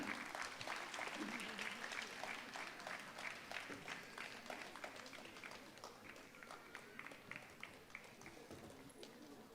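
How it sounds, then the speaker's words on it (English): Audience applause for dignitaries at a dance event, a dense patter of many hands clapping steadily for several seconds, fairly distant and gradually thinning, with faint voices beneath. "A bigger round of applause for them."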